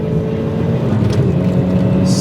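A Nissan 200SX engine drones steadily up close, a low, even mechanical hum with a brief airy hiss near the end.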